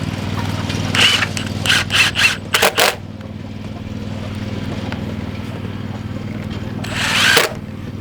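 Lawnmower engine runs steadily at a distance as a low droning hum throughout, with a few sharp scraping bursts and clatters over it.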